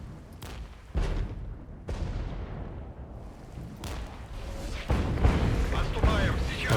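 Heavy gunfire and artillery in the wargame Regiments, sharp booming blasts at uneven intervals amid rattling shots that build toward the end, with someone talking over the combat.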